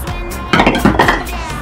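Plates clattering and clinking together as a small plate is swapped for a larger one in a kitchen, a few brief close knocks and rattles.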